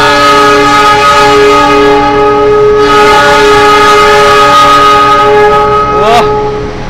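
The Manahan train arrives at Yogyakarta station, its loud sustained multi-tone horn blaring continuously up close and bending in pitch near the end, with speech faintly present.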